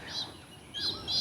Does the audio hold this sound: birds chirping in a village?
yes